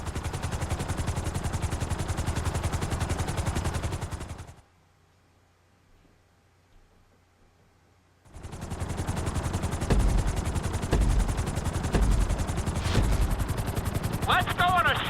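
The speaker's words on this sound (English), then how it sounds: "we're gonna put you in a helicopter for this lesson" Helicopter in Grand Theft Auto V flight school, a loud steady rotor chop with heavy bursts of gunfire-like thumps, cutting out to near silence for a few seconds midway before returning at full volume.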